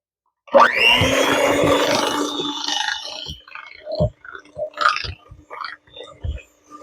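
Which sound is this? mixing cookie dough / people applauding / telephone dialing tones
mixing cookie dough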